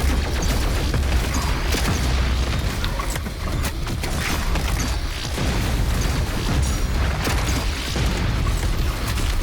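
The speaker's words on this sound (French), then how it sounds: "le mieux, c'est quand même d'utiliser la bombe collante hein, sur le petit là" A dense, loud rumble of repeated booms and bursts fills the scene as sticky bombs explode in the Doom Eternal video game, with explosions overlapping in quick succession and no pause.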